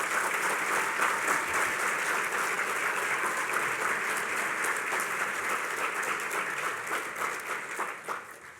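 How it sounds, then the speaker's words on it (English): Steady, dense applause from an audience honoring the speaker's wife at a Seminole County GOP event with Lt. Gov. Jay Collins, loud and sustained throughout before tapering slightly at the end. "so please give her a round of applause."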